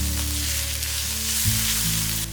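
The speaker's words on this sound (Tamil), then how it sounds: "கொஞ்சமாக கருவேப்பிலை எல்லாமே போட்டு நல்லா ஒரு வதக்கிட்டு எடுத்து வச்சிடலாம்" Onion, chili and radish sautéing in a hot pan for a vegetable egg omelet, a steady loud sizzle with a brief stirring shift midway and no talking.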